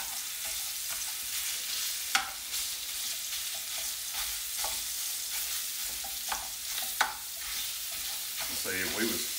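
Frozen ground sausage thawing in a pan for single-serving sausage gravy is broken up with a utensil. It gives a steady soft sizzle and crackle, with scattered scraping clicks and a few sharper taps from the pan, and no voices.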